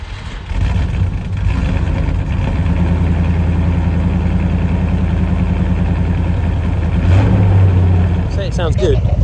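A V8 Land Rover engine fitted with twin SU carburettors idles steadily and loudly close by, with a low, even rumble that swells slightly near the end.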